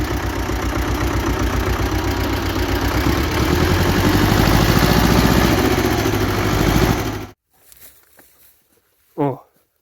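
A T-25 tractor engine running while the tractor rocks forward and back: a loud, steady mid-pitched diesel drone for about seven seconds that cuts off abruptly, followed by quiet with faint sounds and a brief voice.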